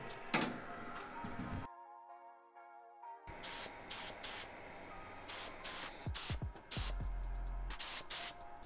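Short bursts from an aerosol spray can coating a motorcycle carrier for an RM250 rebuild, close hissing puffs in quick repeated pulses with brief pauses between them and a long gap of near silence.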